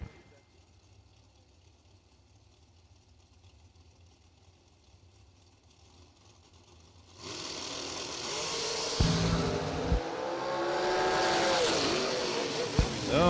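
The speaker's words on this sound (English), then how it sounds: "You heard Fuller's car either hit the rev limiter or broke or did something up there" A quiet stretch gives way to a loud, sustained drag racing car engine roar, with brief sharp bursts and fluctuating pitch as it hits the rev limiter.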